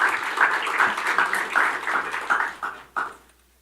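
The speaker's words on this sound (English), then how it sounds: "Let's give him a round of applause." Applause from a formal audience at a national e-commerce strategy event, a dense patter of many hands clapping steadily and then tapering off near the end, with a few final claps.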